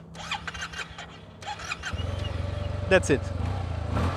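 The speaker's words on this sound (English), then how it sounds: "If you want to start the bike quite easily," A 2020 Yamaha TMAX 560 Tech Max scooter's engine cranks and catches about halfway through, settling into a steady, close, pulsing idle, with someone speaking before and over it.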